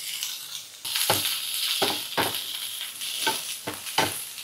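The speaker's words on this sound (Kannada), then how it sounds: "2-3 ನಿಮಿಷ ಹಾಫ್ ಫ್ರೈ ಮಾಡ್ಕೋಬೇಕಾಗತ್ತೆ." Onion, carrot and two colours of capsicum frying in a pan for white pasta, a soft hiss of sizzling punctuated by about six rhythmic stirring scrapes, close and without speech.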